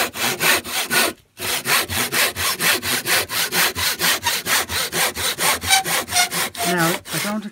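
Handsaw cutting wood for a bird box, with steady, close, rhythmic back-and-forth strokes, a brief pause near the start, and no talking.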